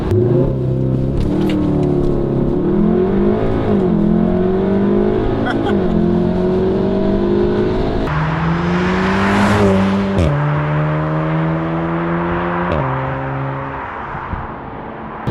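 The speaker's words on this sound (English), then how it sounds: "See how quickly this car gets off the line." A Volkswagen Golf R Mk7 hot hatchback's engine revs hard, climbing in pitch, dropping with each gear change, then pulling again. The loud acceleration fades slightly at the end.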